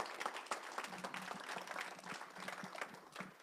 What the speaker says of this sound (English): I would love another round of applause for these wonderful panelists